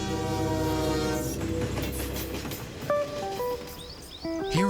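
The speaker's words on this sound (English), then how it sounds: "Here in Germany, engineers are testing an experimental train that all but eliminates track friction." An experimental low-friction train in Germany rumbles past with a steady heavy roar that fades, followed by short electronic tones and rising chirps.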